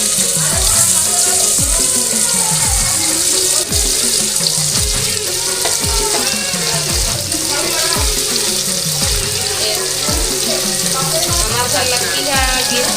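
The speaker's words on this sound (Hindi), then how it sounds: "पनीर का तल के निकाल डाले हैं" Paneer cubes frying in hot oil on a tawa, a loud, steady sizzle and crackle with repeated rhythmic scraping or stirring knocks throughout.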